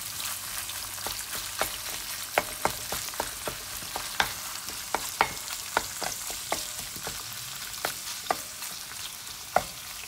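Ground meat frying in a pan and being stirred with a wooden spoon: steady crackling sizzle with repeated soft scraping and tapping strokes throughout, close by and with no voices.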